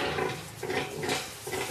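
Cloned piglets squeal in a university farm stable: loud, harsh, high squeals in a few overlapping bursts, close and continuous, with no talk.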